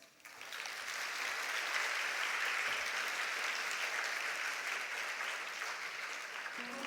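Large audience at a cultural programme of the Eastern Zonal Cultural Centre welcoming the Governor of West Bengal with a sustained, dense round of applause that swells quickly and holds evenly for several seconds.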